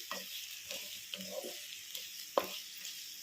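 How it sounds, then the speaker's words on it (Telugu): Onion frying in a pan for drumstick curry, soft sizzling with occasional stirring scrapes and clinks, fairly quiet and close, no talk. "వేగుతుంది ఉల్లిపాయ బాగా వేగాలి వేగితేనే బాగుండుద్ది"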